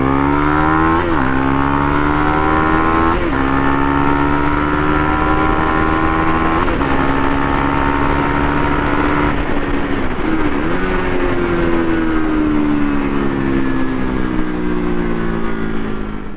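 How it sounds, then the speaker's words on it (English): A KTM Duke 390 motorcycle with about 35,000 km on its stock clutch plates accelerates hard through the gears and then downshifts from fifth to third through its slipper clutch. The engine note is loud, close and continuous, with no speech. "I just brought down from 5th gear to 3rd gear, and the slipper clutch took all the work."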